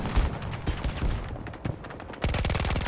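Battlefield 2042 gunfire, dense bursts of rapid shots that crackle and thump close by, then a sustained loud automatic-weapon stream with a fast, even rhythm.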